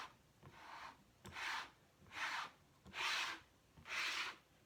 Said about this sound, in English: So I think I'm going to go ahead and try it with the larger squeegee first and try to smooth it out.